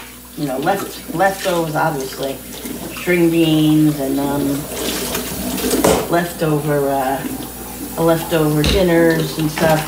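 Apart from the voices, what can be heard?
running kitchen tap water while washing dishes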